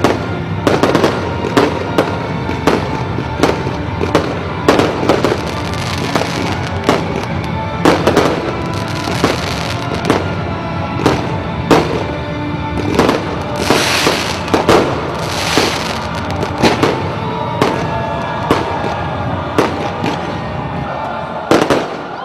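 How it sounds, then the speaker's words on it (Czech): Fireworks display closing a summer town fair in Uničov, Czech Republic: a dense, continuous run of loud crackling bursts and booming pops, with frequent overlapping explosions and a faint crowd underneath. "Celý sváteční jarmark byl zakončen velkolepým ohňostrojem."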